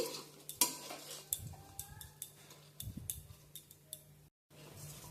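Rice being stirred and fried in a pan over a low flame for Basanti pulao, a spoon scraping and clinking against metal in irregular strokes, fairly quiet and close, with no talking.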